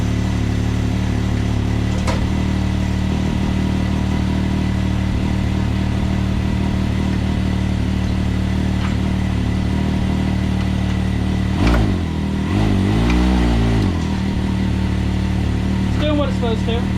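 A vehicle fitted with an Ibexx Stage 3 clutch kit runs with a steady low engine hum throughout, then creeps forward a short distance, bringing a brief rise and wobble in the drivetrain tone near the end; voices are present.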